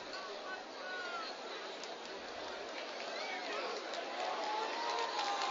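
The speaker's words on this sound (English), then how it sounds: "we always have a good, very vibrant and loud crowd here at Mustang Panther Stadium" Loud crowd noise fills the stands of a high school football stadium before kickoff, a steady broad roar of voices and murmur holding throughout and swelling slightly toward the end.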